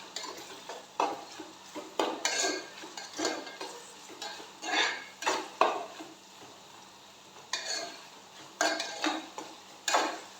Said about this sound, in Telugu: ఈ రొయ్యలు కూడా ఈ ఆయిల్లోని ఒక 5 నిమిషాలు వేపుకోవాలి.